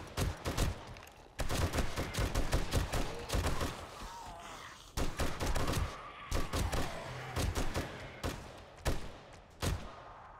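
Gunfire in 7 Days to Die comes in repeated rapid bursts of automatic shots, loud and close, separated by brief pauses across a long firefight.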